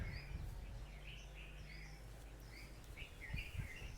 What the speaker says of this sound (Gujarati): તમે પક્ષીઓનો કલકલાટ પણ સાંભળી શકો છો